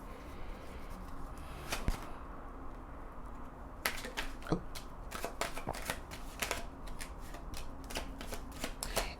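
Tarot cards are shuffled close by in repeated crisp riffles and snapping flicks that come in bursts over a quiet background, with no speech.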